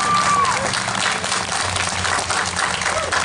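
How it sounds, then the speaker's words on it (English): Concert audience applauding at a school choir show, a dense steady wash of clapping with some cheering filling the whole stretch, loud and close, with a brief tone sliding at the start. "a round of applause for those guys"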